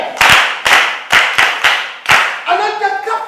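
Classroom clapping for a girl: a few sharp group claps in an uneven rhythm, close and loud, followed by a voice speaking.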